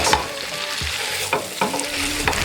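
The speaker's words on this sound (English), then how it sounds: "Stir and let it rest for a minute." A spoon stirs broth in a pot with steady sizzling and scraping, a few sharper knocks of the utensil against the pot rising above the continuous cooking noise, close and moderately loud.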